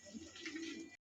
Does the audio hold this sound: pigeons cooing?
yes